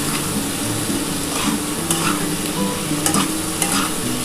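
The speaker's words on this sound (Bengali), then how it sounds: "একটু ভালো করে কষিয়ে নিই বন্ধুরা মশলাটা" Spice paste sautéing in a pan for a spicy egg, cauliflower and potato curry gives a steady close sizzle with repeated scraping stir strokes, no voices.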